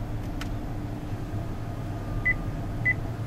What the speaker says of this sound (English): And you hear 2 beeps.